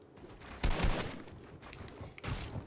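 Gunfire bursts in Fortnite gameplay, with several loud volleys of shots separated by quieter stretches of game noise.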